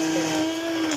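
A kitchen blender purees a velouté of asparagus finished with fromage blanc, giving a steady, loud motor whir that holds one even pitch for the whole second with no voices over it.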